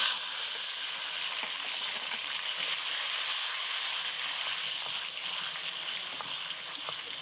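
Steady sizzling and crackling of tomatoes frying in a hot pan, constant and close throughout, with faint stirring clicks and no voices.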